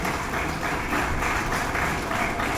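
Steady applause from an audience at a hackathon valedictory ceremony greets the mentors, with many hands clapping at once and no pause over the whole stretch.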